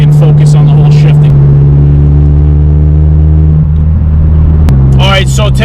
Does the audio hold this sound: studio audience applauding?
no